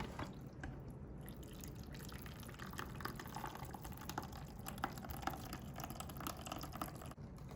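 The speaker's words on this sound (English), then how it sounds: "So we want to run some of that water through each of the spouts so that way we can rinse them." Water runs steadily from the spouts of an Avalon water cooler into a container during a rinse. A faint, continuous trickle with a few small drips, heard up close and alone without talk.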